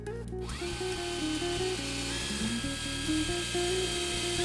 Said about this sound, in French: Place une cale sous le meuble, glisse le filer et visse-le.